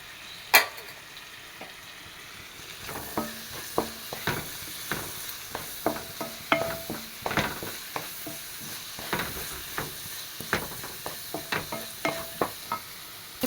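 Green chillies and tomatoes frying with ginger, garlic and shallots for a mixed biryani, a steady sizzle broken by repeated sharp clicks and scrapes of stirring throughout, close and moderately loud.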